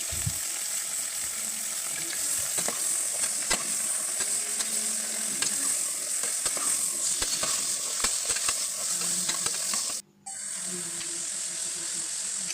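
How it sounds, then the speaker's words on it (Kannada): Mutton pieces fry with salt in a cooker, giving a loud, steady sizzle and hiss throughout, with occasional stirring clinks and a brief dropout near the end. "ನಾವು ಆದಷ್ಟು ಮಟನ್ನ ಈ ಉಪ್ಪು ಹಾಕಿ ಹುರ್ಕೋಬೇಕಾದ್ರೆ ಸ್ವಲ್ಪ ಚೆನ್ನಾಗಿ ಹುರ್ಕೋಬೇಕಾಗಿರುತ್ತೆ."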